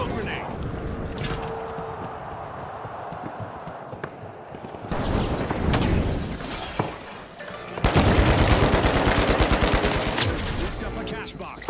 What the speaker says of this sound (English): Using pyro grenade!